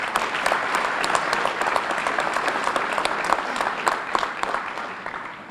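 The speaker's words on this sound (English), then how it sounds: "So please give yourself a round of applause." Audience at a fire academy graduation ceremony applauding, a dense, steady wash of many hands clapping that holds for several seconds and then eases slightly toward the end.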